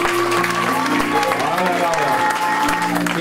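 A church congregation applauds and cheers, a dense loud wash of clapping with voices mixed through the crowd.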